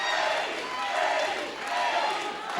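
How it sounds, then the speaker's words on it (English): A wrestling crowd at Davis Arena during an Ohio Valley Wrestling match roars and chants for Eddie, a loud, continuous swell of massed voices that rises and dips in waves. "Listen to the crowd at Davis Arena."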